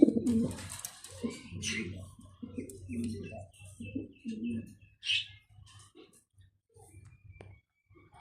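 Mundian pigeons, a pair of male and female, give soft low cooing phrases in a loft, with a few chirps and clicks mixed in, close and moderately quiet, partly under a voice.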